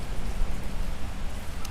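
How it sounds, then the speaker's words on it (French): Steady rain falls outdoors as an even, continuous patter and hiss, moderately loud, with no voices over it. "Ici, il pleut"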